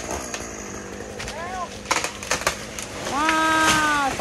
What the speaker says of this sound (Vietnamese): bắt đầu anh thì sẽ cưa